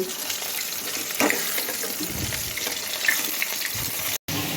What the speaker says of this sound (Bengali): একটু চিকেনটা ধুয়ে দিস